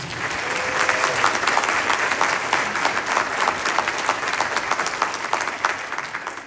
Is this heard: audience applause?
yes